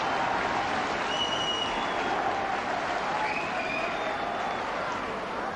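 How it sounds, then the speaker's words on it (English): Warm applause from a distant football stadium crowd during a Scottish league match, a broad steady wash of clapping and crowd murmur with faint whistles above it. "some warm applause for the Hearts fullback"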